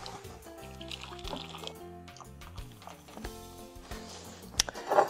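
Hot water from an electric kettle pours in a continuous gurgling stream with small splashes and drips, filling a container in a kitchen where rice is being cooked in a toaster oven.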